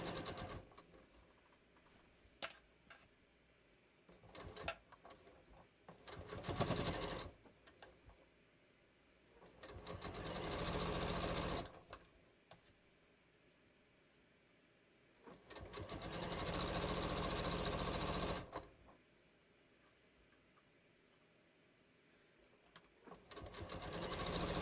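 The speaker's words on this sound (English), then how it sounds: "I literally just want to baste it together and see if it fits." A sewing machine basting fabric for a top with a long stitch length, running in several separate bursts of steady whirring with quiet pauses between them, close and fairly loud.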